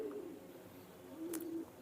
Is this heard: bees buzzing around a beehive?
no